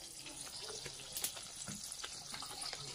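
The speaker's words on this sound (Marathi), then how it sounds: "पूर्ण मसाला असा फ्राय करून घ्यायचा आहे, चांगला भाजून द्यायचा आहे मसाला" Homemade masala and turmeric powder frying in oil for a spicy fish curry, giving a steady close sizzle with light stirring scrapes and occasional watery crackles.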